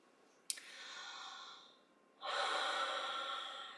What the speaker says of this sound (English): just as I am breathing